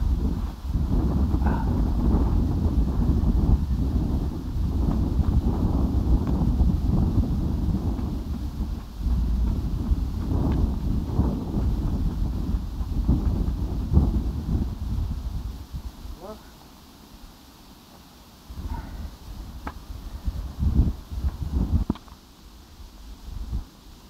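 Strong wind rumbles and buffets steadily for a long stretch, briefly easing midway before gusting back in.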